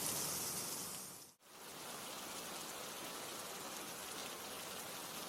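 Steady rain pours down as a dense, even hiss that fills the whole stretch, with one brief dip in the middle before the downpour continues unchanged, heard alone without any voices.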